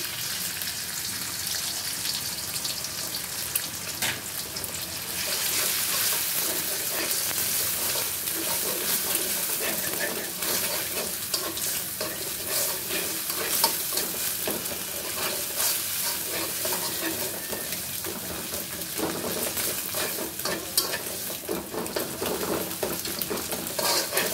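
An egg fries in a pan with already fried onions and is stirred, producing a continuous close sizzle with intermittent scraping of the spatula across the pan.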